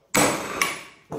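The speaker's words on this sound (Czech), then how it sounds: "Kladivo proti kladivu je optimální věc." Loud metallic clanks of a hammer striking another hammer while working on a BMW E36 differential, three sharp hits with ringing decay, close up and with no talking.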